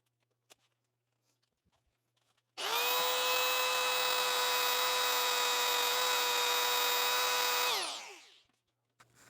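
A power tool runs steadily for about five seconds to push a rivet out of a motorcycle chain, starting abruptly, whining at a constant high pitch, then winding down, with faint handling clicks before and after.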